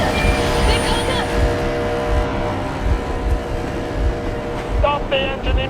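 A vehicle engine runs steadily in the video game Metro Exodus, a loud continuous low rumble with rhythmic pulsing throughout. A brief tonal game sound appears near the end.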